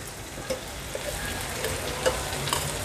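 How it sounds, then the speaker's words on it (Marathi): Prawn gravy for dum biryani, with coriander, mint and ghee, sautéed in a pan after the flame is switched off: a soft, steady sizzle close by, with occasional light stirring clinks and scrapes. "आता गॅसची फ्लेम स्विच ऑफ करून ही ग्रेव्ही छान परतून घेते"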